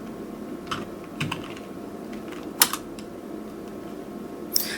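A computer keyboard being typed on in Hindi: scattered, irregular key clicks, fairly faint and near, with a few sharper taps over a quiet background hum and no talking.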